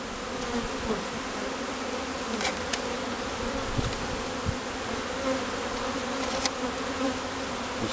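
A steady, dense hum of many honey bees buzzing close by as they are shaken out in front of a hive, continuous and fairly loud, with a few sharper bumps and clicks scattered through.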